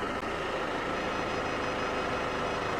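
A Mercedes-Benz rear Parktronic parking sensor sounds a continuous close-range warning tone while the car is in reverse against a loading wall, steady and loud over the running engine.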